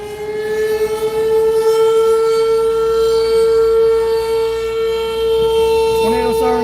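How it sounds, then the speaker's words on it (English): Tornado warning sirens in Hallsville, Texas blare loudly in a steady, sustained wail, holding one pitch, with faint rustling underneath. "Tornado sirens going off, Hallsville, Texas."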